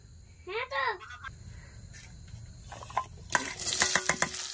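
Chopped onion and green chili dropped into hot oil in a kadai for a spicy rupchanda fish curry, bursting into a loud, crackling sizzle after a brief voice and some quiet kitchen sounds.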